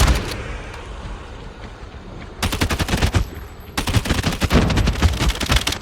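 Rapid automatic gunfire in the zombie mode of COD Mobile, loud and close, coming in two sustained bursts after a quieter opening stretch.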